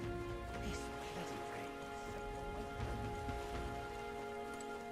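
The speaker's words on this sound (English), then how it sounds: "bloody rain." Steady rain in the fantasy video game Metaphor: ReFantazio, a soft continuous patter laid under a sustained game music drone, faint and even throughout with no voices.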